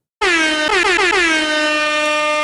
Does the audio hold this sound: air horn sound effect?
yes